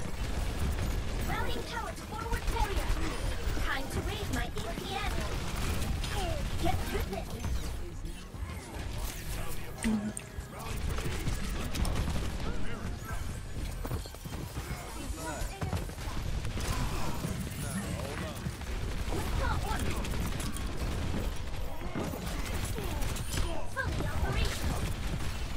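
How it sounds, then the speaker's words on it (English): In Overwatch, Torbjörn's turret fires in dense mechanical rattling bursts amid chaotic combat effects, with excited player voices talking over the action throughout. "Oh, the Torb turret behind us?"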